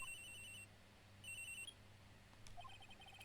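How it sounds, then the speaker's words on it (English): A cell phone rings in the Ace Attorney Trials and Tribulations video game, a faint electronic ringtone of rapid chirping tones in two short bursts, followed by a brief trill of electronic blips, with no talk. "I received a call on my cell phone."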